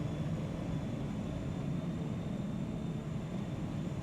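A jet roars low overhead in PowerWash Simulator, a loud, steady broadband rumble that fills the whole moment without letting up.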